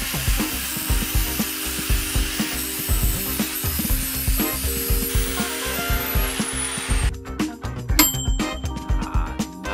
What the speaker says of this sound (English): Oh well, the grinder works now.